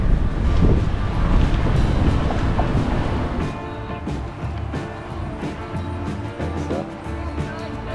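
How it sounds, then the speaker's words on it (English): Strong wind buffets the microphone with low, gusty roaring, loudest at the start and easing off, over a faint rumbling vehicle hum, during windy, rainy weather on a Mosel River cycle tour. "And it just got really windy and rainy."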